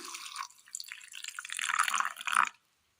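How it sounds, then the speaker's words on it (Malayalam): Water splashes and trickles into a container of fennel seeds for grinding, about two and a half seconds, a bright, close pouring sound with dripping near the end, then silence. "അല്പം വെള്ളം ഒഴിച്ചു കൊടുക്കാം"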